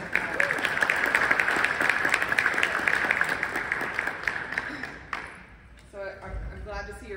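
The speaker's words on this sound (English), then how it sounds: "I would love for all of us to give a round of applause for the very few women I see in this room today" An audience at a university talk on AI in the classroom breaks into sustained applause, a dense crackle of many hands, which fades out before a voice begins speaking.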